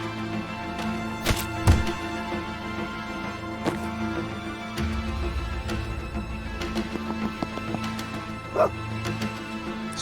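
A dog in the video game Tactical Breach Wizards lets out soft barks and whimpering yips amid a steady humming game soundscape, with occasional sharp clicks and thuds; the dog sounds are modest in volume and mixed into the background.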